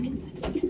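Racing pigeons give soft, low cooing, a few muffled murmurs close by that end with three quick rising coos, in a quiet early-morning setting.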